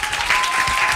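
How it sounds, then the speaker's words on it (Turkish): A studio audience claps steadily and loudly in dense, sustained applause on a Turkish morning television program, with no talk over it. "Bir alkış kocaman."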